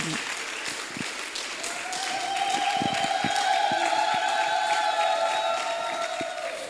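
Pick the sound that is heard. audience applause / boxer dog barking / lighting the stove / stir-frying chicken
audience applause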